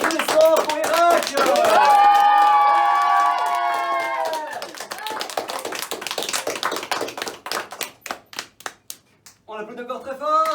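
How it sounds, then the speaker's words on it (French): Applause at a summer magic workshop show starts after a host speaks over the room. It builds into loud, dense clapping from the audience and then breaks into scattered claps before voices return. "On applaudit encore très fort."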